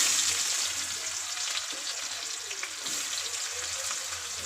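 Onions sizzling in hot oil in a kadai, a loud bright frying hiss that starts strong and settles into a steady crackle with small stirring bumps, no voices.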